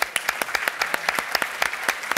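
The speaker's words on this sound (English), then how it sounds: "so a round of applause for you" Applause for the California Art Club during a plein air painting podcast, a small group clapping with distinct separate claps in an uneven rhythm, fairly near and moderate in level.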